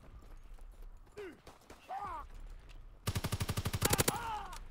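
A rapid burst of automatic gunfire from the Call of Duty WW2 video game rings out about two-thirds of the way through, loud and closely spaced, after quieter moments marked by a few gliding tonal sounds.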